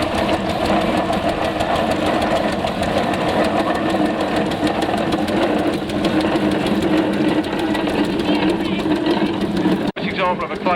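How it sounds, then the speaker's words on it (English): A Clayton Shuttleworth agricultural steam engine at a steam rally runs with a steady, loud mechanical chuffing and knocking rhythm, dense and continuous throughout, with voices likely mixed into the noise. "Example of a Clayton Shuttleworth agricultural engine"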